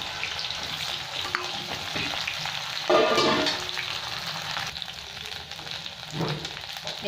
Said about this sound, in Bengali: বেগুনটাও ভাজা হয়ে যাবে আলুর সাথে।